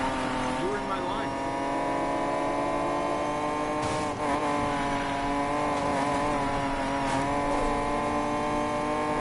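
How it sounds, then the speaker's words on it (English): A Nissan GT-R engine in the racing game Need for Speed Payback hums steadily and continuously in the foreground. Someone talks over the engine for most of the stretch. "this Nissan GTR sounds so good as well"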